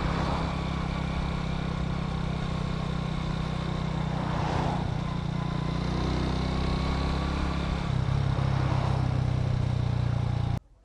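A motorcycle engine runs while riding on a hot road trip in Morocco, a steady, loud, close droning rumble with a low throb that holds evenly for about ten seconds before cutting off sharply; no one speaks.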